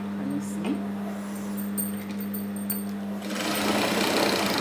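A sewing machine stitches the seam of an A-line maxi skirt, running with a steady mechanical whir and hum. The motor picks up and grows louder near the end, and no one speaks.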